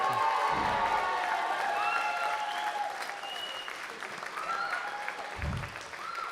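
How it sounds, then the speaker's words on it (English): A wrestling show crowd applauds a young wrestler, sustained clapping with scattered cheers and a few shouts, loud and steady before easing slightly. "Let's hear it one more time for young Jonty."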